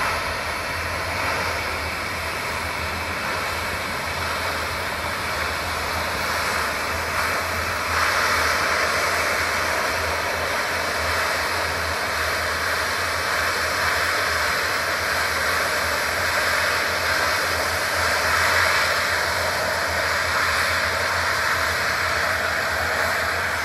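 A roof steamer removes an ice dam, giving a loud, steady, close hiss that runs without a break through the whole stretch, with no talk.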